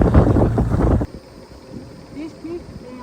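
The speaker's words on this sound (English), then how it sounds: "Very, very windy today." Loud wind buffets the microphone in heavy gusts, then cuts abruptly to quieter outdoor ambience with faint voices.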